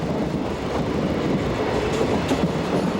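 An overnight car-carrier sleeper train, number 4548, runs on the Dijon–Lyon main line in France, a steady loud rumble of wheels on rails that holds across the whole stretch.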